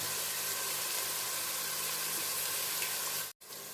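Chopped onions fry in hot oil for a fish curry, giving a loud, steady close-up sizzle that runs unbroken until a brief cut near the end.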